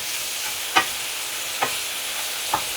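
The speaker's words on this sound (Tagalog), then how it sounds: "Ilapat natin yung taba doon sa kawali para siya ay mag-oil." Pork fat rendering in a hot pan while cooking nilagang baboy, a steady soft sizzle broken by three brief scraping stirs spaced about a second apart, close and alone without talk.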